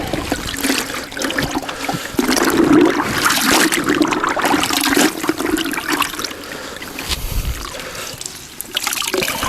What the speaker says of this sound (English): Pull it out and just start squeezing the water out of it.